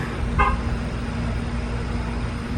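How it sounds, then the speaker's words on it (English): A car horn gives one short, clear toot at a middle distance, followed by a low steady hum of road traffic. "you decided that you were going to honk your horn not once, but twice"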